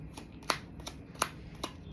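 Tarot cards shuffled by hand during a reading, a soft continuous papery riffle with three or four crisp louder slaps spaced about half a second apart, close and alone.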